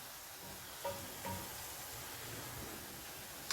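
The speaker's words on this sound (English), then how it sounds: "So we fried up the onions." Onions frying in a pan for a Durban curry, a steady quiet sizzle with a couple of light stirring knocks, no voices.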